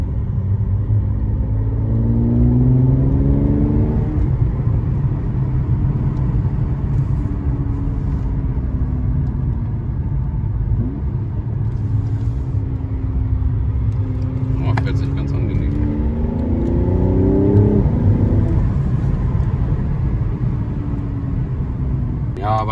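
A Mercedes C43 AMG with a Stage 1 tune revs in Sport Plus mode, its loud engine note rising and falling through repeated gear changes and downshifts, with a steady rumble throughout and people talking over it.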